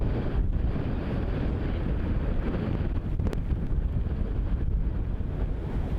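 Steady wind buffeting a microphone at an outdoor disc golf course, a constant loud rumbling roar with no break.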